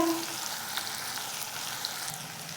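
Tomato pieces sautéing in hot oil in a pan, with garlic-coriander paste, for a spicy potato curry; a steady, close sizzling hiss runs throughout with a couple of faint ticks and no voices.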